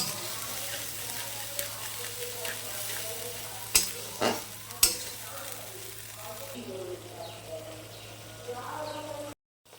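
A mustard spice paste for sukto sizzles and fries in hot oil while being stirred, a steady close sizzle broken by a few sharp scraping clicks of the spoon against the pan, with a voice talking over it.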